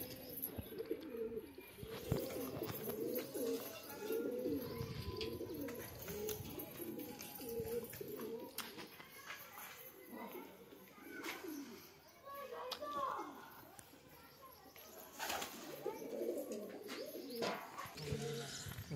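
Pigeons coo repeatedly in low, throaty rolls close by, with a voice talking over them and occasional clicks.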